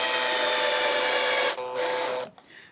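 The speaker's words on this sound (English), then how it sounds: "if you have a drill, it'll make things quicker" A power drill drives screws into a Paulownia wood hive stand leg kit for a Flow Hive 2: a loud, steady motor whine for about a second and a half, then a rougher stretch before it cuts off.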